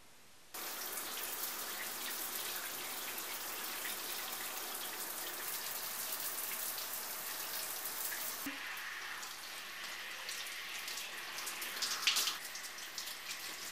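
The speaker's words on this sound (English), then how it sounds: "I'm just gonna take a shower, if that's cool." Shower water running steadily, a dense hiss of spray falling alone at moderate level, with a shift in the splash partway through as the flow changes.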